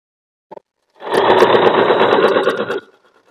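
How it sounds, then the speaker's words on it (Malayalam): Domestic sewing machine stitching stretched elastic onto fabric, a couple of tiny clicks and then a close, loud burst of rapid needle chatter lasting under two seconds before stopping abruptly. "ഇതുപോലെ വലിച്ചു പിടിച്ചിട്ട് സ്റ്റിച്ച് ചെയ്തെടുക്കാം."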